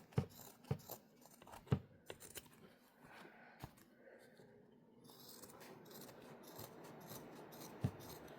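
Scissors make sharp, crisp snips while trimming fabric for a small card wallet, with a few spaced cuts early on and one more near the end, over quiet handling rustle.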